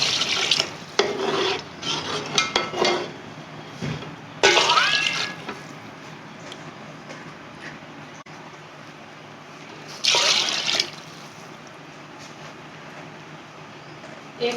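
Water splashes into chicken pulao masala in a cooking pot in several loud bursts of rushing, hissing pouring, with quieter stirring and scraping between them.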